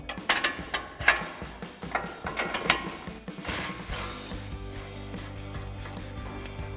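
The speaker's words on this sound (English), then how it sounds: "we're going to use our 21mm wrench and our 22mm socket" A ratchet wrench turns a 22mm socket, with a 21mm wrench holding the other side, to loosen front strut through bolts on a Ford F-150. Quick bursts of close ratcheting clicks come first, then a steadier mechanical rattle.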